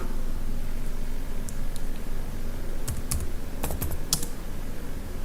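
Someone types code on a computer keyboard, producing sparse, crisp key clicks that come in short clustered bursts over a quiet background hum, with no speech.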